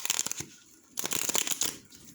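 Tarot cards are shuffled close to the microphone in two short bursts of crisp riffling and flicking, separated by a brief pause, quiet and without talk.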